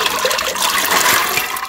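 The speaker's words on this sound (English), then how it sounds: "I'm going to do one more quick rinse and then I'm going to throw it into my Instant Pot" Soaked chickpeas are rinsed under running water. A loud, close rush of splashing liquid fills a short burst and tapers off at the end.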